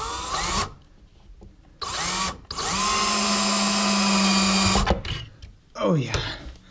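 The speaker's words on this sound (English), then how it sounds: "So got the drill now. So I can take this right where I want it" A power drill driving a screw into wood while fitting soffit lights in a tiny house, with a loud sustained whirring run of a few seconds between shorter bursts, near and close, with brief speech around it.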